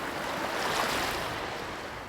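Ocean waves break and crash in a soft, continuous surf wash that swells slightly and then eases, moderately loud and somewhat distant, with no voices.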